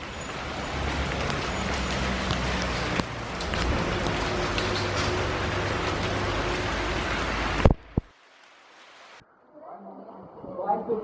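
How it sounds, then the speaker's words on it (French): Warm tropical rain falls on Réunion Island, a steady close hiss of drops on surfaces that stops abruptly after about eight seconds, followed by quieter background sounds. "il pleut, mais il fait quand même 28 degrés"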